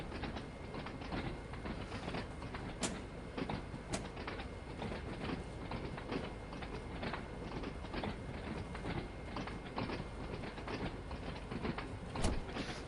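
A train in Train Sim World 2 on PS4 rolls along at about 45 mph with a steady low rumble and regular clickety-clack wheel beats over the rail joints, with occasional sharper clanks and no talking.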